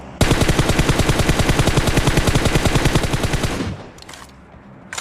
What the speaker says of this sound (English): From below they are firing.